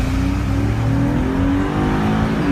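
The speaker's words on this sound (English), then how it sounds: "that engine drone can be pretty annoying" A 2016 Cadillac SRX-4 AWD engine drones steadily under acceleration, a constant close, loud hum with a slowly rising pitch and no voices.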